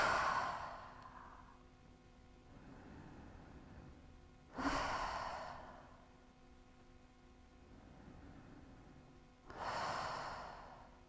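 Three deep breaths released through the mouth during a vinyasa yoga class, each a soft airy exhale a few seconds long at an even, slow pace, close and fairly quiet.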